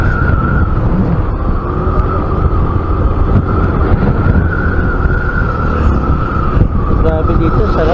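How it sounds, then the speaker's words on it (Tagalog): Strong wind buffets the microphone during a ride along a road in the Philippines, a constant loud roar mixed with vehicle rumble, steady from start to end. "Lakas ng hangin dito."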